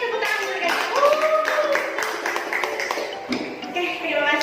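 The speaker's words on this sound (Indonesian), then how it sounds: "tepuk tangan untuk mereka" Students in a classroom clap for classmates during a lesson, a light, scattered round of applause mixed with a teacher's voice and chatter.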